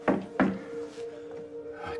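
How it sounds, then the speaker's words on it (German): Two sharp knocks on a closed glass sliding door, close and fairly loud, a short pause between them, followed by a quiet room with a steady low hum. "Hubert klopft gegen die geschlossene Glasschiebetür."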